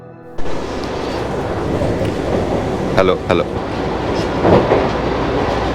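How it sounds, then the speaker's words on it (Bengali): A Vande Bharat express train rumbles along the rails with a steady clatter, heard from inside as a voice calls out briefly over the noise. "একই রুটে নতুন ট্রেন হচ্ছে এই বন্দে ভারত"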